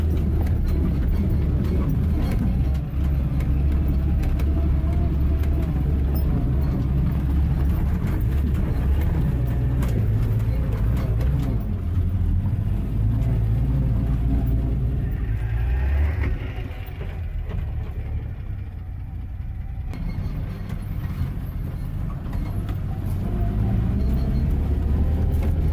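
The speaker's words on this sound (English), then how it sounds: "Here we go, up the nasty part of the track in four-wheel drive, but this is nothing yet." A four-wheel drive vehicle grinds up a rough mountain track, its engine droning low and steady throughout with rattling and bumping from the rutted ground, close and continuous.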